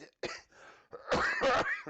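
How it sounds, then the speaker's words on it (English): A few throat-clearing rasps followed by a couple of louder, harsher coughs, close and fairly loud, with short pauses between them. "let me cough and clear my throat."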